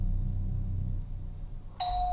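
A doorbell chimes once near the end, a bright ringing tone after a stretch of low background rumble.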